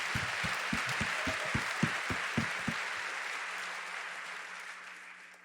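An audience applauds at a fashion show honoring an advisory council, a dense field of clapping with a few sharp, distinct claps at a steady rhythm up front, gradually tapering off.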